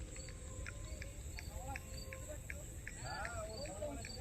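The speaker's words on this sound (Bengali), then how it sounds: "ঝিঝি পোকার ডাক।" Crickets chirp at night in a dark outdoor spot in Konnagar, a faint steady shrill pulsing with regular repeated trills over low background hum.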